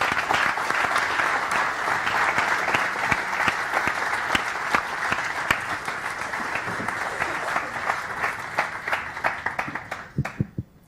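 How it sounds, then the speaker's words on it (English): A conference audience at a tech event gives a long, dense round of applause right after a talk ends, steady and loud for about ten seconds before thinning to a few scattered claps and stopping. "a second applause for the slides"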